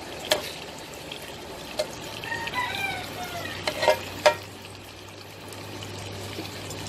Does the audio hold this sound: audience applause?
no